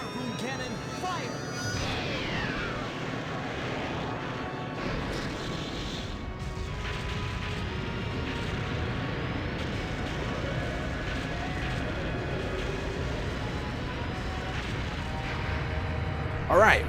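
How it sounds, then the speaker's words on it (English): A harpoon cannon fires in the Skies of Arcadia Legends battle against Grendel, a heavy boom and crash with swooping effects, followed by sustained rumbling battle sound effects. "Harpoon cannon, fire!"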